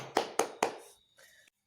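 In a classroom, three crisp, evenly spaced hand claps ring out close by, followed by a faint, brief scrap of sound and then quiet.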